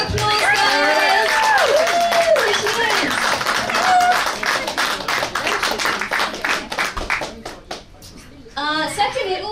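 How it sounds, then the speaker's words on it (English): Audience applause and cheering at a Q&A event, starting loud and dense under a voice, thinning toward the end, then swelling briefly again near the close. "Give her a big round of applause, guys!"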